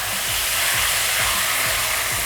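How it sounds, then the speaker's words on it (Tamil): Half a kilo of chicken sautéing in a pan for kheema biryani, a steady loud sizzle and hiss running throughout with no talking. "இந்த மாதிரி வதக்கிறதுலே வந்து உங்களுக்கு சிக்கன் பாதி வெந்துடும்."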